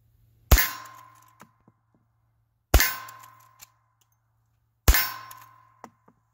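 Three sharp metallic clangs as .38 SPL/.357 Mag bullets from a Henry Big Boy Classic lever rifle hit a steel plate, evenly spaced about two seconds apart, each ringing briefly with a bright tone before fading, with faint small ticks trailing after.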